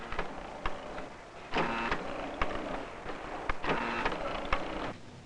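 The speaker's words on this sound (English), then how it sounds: "different machines do each job. Rolling, filling, folding, pinching." Pie-making machinery rolling, filling, folding and pinching dough, a repetitive mechanical clatter in cycles of whirring bursts and clicks, steady and moderately loud.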